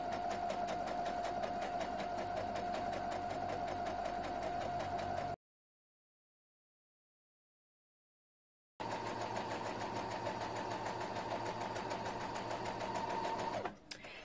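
A sewing machine runs steadily while stitching a fabric casing for elastic on an off-the-shoulder top, giving a close, even, rapid mechanical whir. It stops, falls silent for a few seconds, then starts again and halts near the end.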